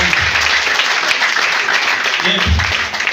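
Loud, steady applause from a crowd, continuous clapping filling the whole stretch with a few voices mixed in.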